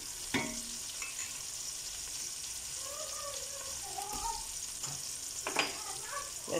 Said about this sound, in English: While this is frying up and the onion is softening